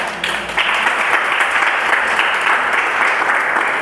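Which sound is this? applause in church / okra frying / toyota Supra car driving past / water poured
applause in church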